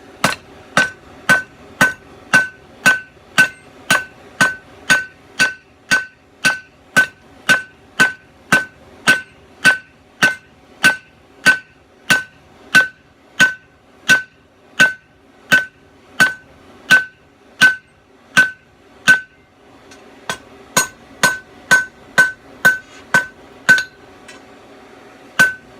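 Steady, evenly spaced hammer blows on hot steel being flattened while forging a kiridashi knife, loud ringing strikes about one per second, with a brief pause before the rhythm resumes.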